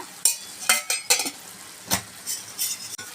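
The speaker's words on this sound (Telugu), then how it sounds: "ఇప్పుడు దీన్ని బాగా కలుపుకున్నాము" A spoon stirs ponnaganti leaf curry in a pan with coriander powder, making scattered scrapes and clinks against the metal over a faint sizzle, close and fairly quiet.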